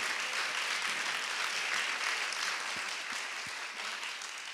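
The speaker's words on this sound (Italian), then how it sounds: "Io farei un, un, altro applauso anche solo per Nicola che è stato un grande, grande direttore" An audience at a literary talk at Scuola Holden in Turin claps in sustained applause, a dense even patter of many hands that fades slightly toward the end, with no speech over it.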